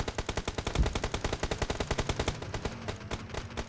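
Rapid automatic gunfire rattles from a shooting range in the PUBG Mobile video game, a dense, steady stream of shots that continues without pause and sounds loud and close.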